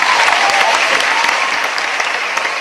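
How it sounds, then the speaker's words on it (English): Hearty audience clapping at a university graduation ceremony, a brief, loud and steady burst of many hands with no voices over it. "can we give him a hearty clap for wonderful service?"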